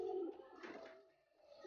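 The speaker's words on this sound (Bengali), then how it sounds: "খুব সুন্দর একটা কবুতর, মাদি কবুতরটা দেখেন" A female tournament racing pigeon coos softly close by, giving a low, throaty, wavering call that dips briefly and then rises again; the sound is faint and no one speaks.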